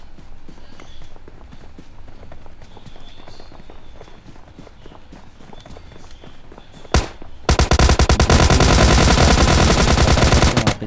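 Footsteps patter steadily through a PUBG Lite match, then a loud, sustained burst of rapid automatic gunfire takes over near the end, close and dense, with no voices.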